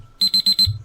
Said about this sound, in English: quiet alarm